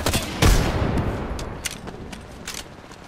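Gunfire in an Apex Legends ranked match: a loud close shot opens, then rapid bursts and scattered cracks continue at moderate distance amid battle noise.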